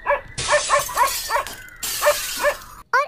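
Dog barking at night, a quick series of sharp close barks and yips in an uneven rhythm, loud and alone with no speech over it.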